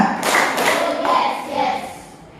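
A class of pupils clap their hands in a rhythmic chant-like pattern, a few grouped bursts of close, sharp claps that fade toward the end.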